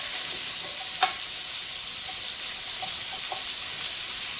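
Mushrooms fry in oil in a pan on a keto kale dish, a steady close sizzle with a few faint scrapes from stirring, no talking.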